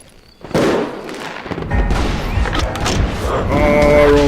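Golden rifle gunfire in the Western shooter Call of Juarez: Gunslinger, a burst of loud, dense game shots and booms layered over busy battle effects, with the clamor building and holding steady to the end.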